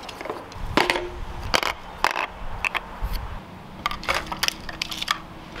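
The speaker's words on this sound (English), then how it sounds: "For that, I'm gonna cut a 5-inch piece of the 3/4 inch." A short 5-inch length of 3/4 inch PVC pipe is cut, heard as a series of sharp crunching snaps and scraping bursts spread over several seconds, close and fairly loud with no talk.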